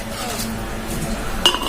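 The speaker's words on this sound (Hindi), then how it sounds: "देवी जी आज बर्तन मांजे थे" Dishes, pots and utensils being scrubbed by hand, soft scraping and handling noises that end in a sharp metallic clink near the end.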